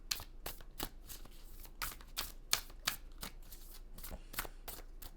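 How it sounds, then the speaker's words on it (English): Tarot cards are shuffled by hand for a reading, making a quick run of close, crisp riffling and slapping bursts with no talking. "So we're gonna shuffle these cards to do a reading for you guys."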